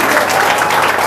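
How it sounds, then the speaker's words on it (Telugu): Brief burst of loud applause from a church congregation, dense and continuous with no gaps, heard at close range. "గట్టిగా చప్పట్లు కొట్టి ప్రభువుని మహిమపరచాలి"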